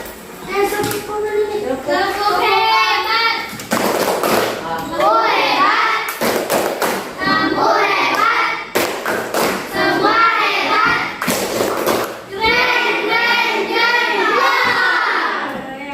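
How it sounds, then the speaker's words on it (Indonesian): A Year 5 class of children performs the 'tepuk semangat' clapping cheer, rhythmic bursts of group claps and thumps alternating with loud chanting voices across the whole stretch. "Sekarang kita tepuk semangat dulu."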